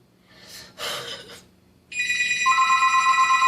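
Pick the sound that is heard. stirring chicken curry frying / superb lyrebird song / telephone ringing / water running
telephone ringing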